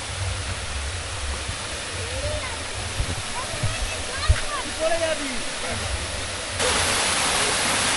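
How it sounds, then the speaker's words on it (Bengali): A small hill waterfall on a rocky stream near the Subarnarekha river, a steady broadband rush of falling water heard close and continuous, with faint voices now and then underneath. "ছোট্ট একটা পাহাড়ি ঝর্ণা।"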